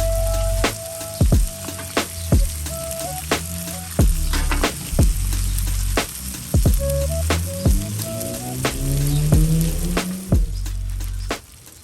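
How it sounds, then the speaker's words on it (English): Burgers fry on a hot griddle with sliced American cheese going on top, a loud close sizzle broken by repeated sharp scrapes and clanks of a spatula. "All right, so I'm going down with my sliced American cheese."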